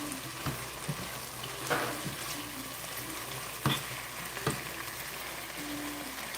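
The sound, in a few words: shrimp cooking on stove top for Cajun shrimp and grits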